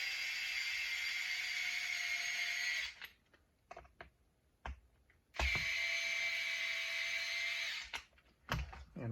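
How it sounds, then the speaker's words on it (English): A small power driver drives screws during the servo installation on a TLR 22 5.0 RC car build. It gives two whirring bursts of about three seconds each, close and clear, separated and followed by quiet clicks and handling noises. "Use our little power driver here."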